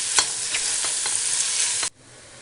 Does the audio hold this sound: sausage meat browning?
yes